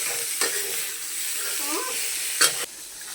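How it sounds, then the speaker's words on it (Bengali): Broccoli fries in a pan with a steady, hissing sizzle, broken by two sharp utensil knocks against the pan, one early and one near the end. "এদিকে ব্রকলিগুলো ভাজলাম"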